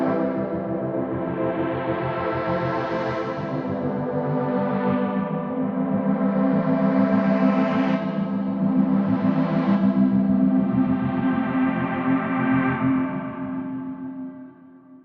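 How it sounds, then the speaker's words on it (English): A sustained synth pad drone run through three auto filters and a hybrid reverb swells and sweeps slowly, its rich harmonic tone steady and loud for about fifteen seconds before tapering at the end. "And I'm going to add another hybrid reverb at the end."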